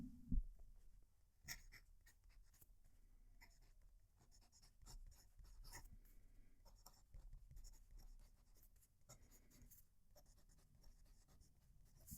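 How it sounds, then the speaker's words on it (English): Close, scratchy nib strokes from a Sailor ProGear Slim fountain pen dragging across paper, continuous with brief pauses and a soft tap at the start, no talking. "I'm going to move the mic close to the paper so you can hear the pen writing"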